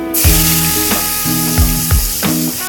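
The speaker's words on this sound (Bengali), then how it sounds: "তেলের মধ্যে কালো জিরা ফোড়ন দিয়ে দিয়েছি, এবার পেঁয়াজগুলো দিয়ে দেবো" Sliced onions hitting hot oil already seasoned with black cumin, giving a loud, close, continuous sizzle with a few sharp stirring knocks over a steady low hum.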